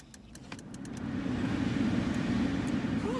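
Car air conditioner fan blowing at full blast inside a moving car, a steady broadband rush that swells after the first second and holds loud, with faint clicks early on.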